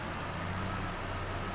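A truck engine in the farming video game Farming Simulator 22 gives a steady, low, droning rumble that holds at an even level throughout, alone, with no talking.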